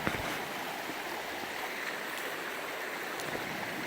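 A small stream flows along a trail in the 100-Mile Wilderness, a steady, close, moderately loud trickle and splash that runs evenly throughout with no voices.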